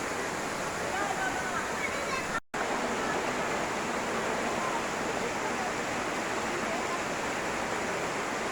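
Na-Kata waterfall roaring in a dense, continuous wash of falling water, loud and close, with a brief cut in the middle.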